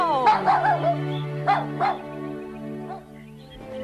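A small cartoon dog in an animated Bible story yips and barks excitedly, several sharp high barks followed by whimpering, loud and close over a sustained musical backdrop.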